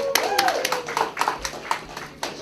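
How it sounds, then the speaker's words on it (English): Scattered audience clapping greets a volunteer child brought up in front of a crowd: a few sharp, uneven claps over roughly two seconds, mixed with voices talking over them. "Everybody give Julia a round of applause."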